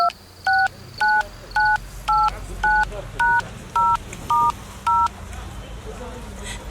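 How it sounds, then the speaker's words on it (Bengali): A telephone at a village phone booth being dialed: ten evenly spaced two-tone keypad beeps, clear and close, over a low background hum with faint noise between the tones. "পাশের গ্রামের টেলিফোন বুথে গিয়ে তোর বাবাকে ফোন করলাম"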